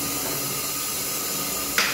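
Steam hisses steadily through a boiler-based essential oil distillation unit, a continuous close broadband rush with a brief louder burst near the end.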